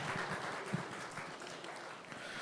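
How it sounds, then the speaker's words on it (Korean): Applause from a church youth group after a worship service, a soft, steady spatter of clapping in a hall that fills the whole moment at modest volume. "박수."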